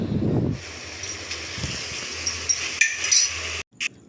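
Boiled potatoes being stirred into tomato curry in a pan, dhaba style: a spoon scrapes and clinks steadily against the metal pan over a low background hiss, with a brief pause near the end. No talking.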